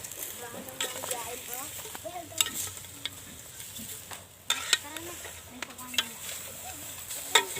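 Goat kaldereta being stirred in a pan after Sprite is added, with scattered scraping and clinking strokes over a low simmering sizzle, close and moderately loud, with no talking.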